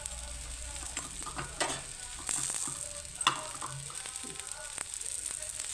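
Vegetable paratha frying in hot oil on a pan: a steady, close sizzle and crackle that runs the whole time, with scattered small pops and clicks and no voices.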